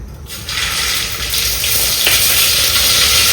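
Mustard seeds and whole cumin dropped into hot oil in an iron pan for tempering, bursting into a loud, continuous hissing sizzle that starts abruptly and keeps going.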